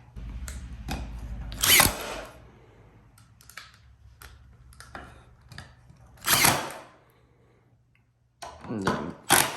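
Short bursts from an impact driver sink 1 inch, 1/4 inch hex-head metal roofing screws, with quiet pauses and faint handling clicks between the rattling drives.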